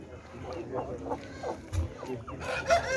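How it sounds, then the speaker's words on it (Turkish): Village chickens cluck and cackle close by in a series of short calls, with a brief louder squawk near the end and some voices murmuring in the background. "Burada A kalite köy tavukları var."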